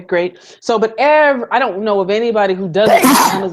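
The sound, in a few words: sneeze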